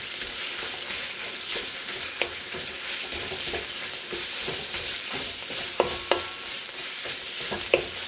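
Ginger, garlic and ground pork fry in hot oil for a Cantonese Dungeness crab dish, giving a steady close sizzle broken by sharp scraping clicks of stirring; no one speaks.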